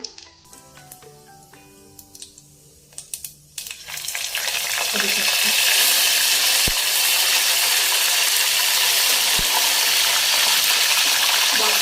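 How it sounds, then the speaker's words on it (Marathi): Cumin and mustard seeds tempered in hot oil for a modak amti curry, a quiet stretch with light clinks, then a loud, steady sizzle bursting in and holding at full strength, close up, with a couple of sharp taps. "फोडणी जिरे मोहरीचा तडका असेल तर ती मस्त त्याची फोडणी बसते"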